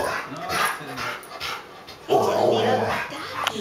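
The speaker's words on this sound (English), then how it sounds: "It's a little doggy." A small dog pants and snuffles close by while a person talks over it in short phrases.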